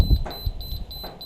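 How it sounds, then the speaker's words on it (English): A Pet Safe boundary wire fence gives a loop alarm: a thin, high-pitched beep pulses rapidly and evenly. A few faint low thumps and handling noises sit underneath it. "So now we're getting a loop alarm."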